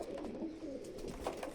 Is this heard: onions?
no